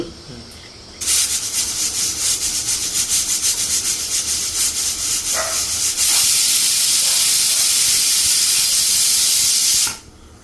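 A pressure cooker whistle lets out a loud, steady hiss of escaping steam that starts abruptly, holds for about nine seconds with a brief surge midway, then cuts off sharply.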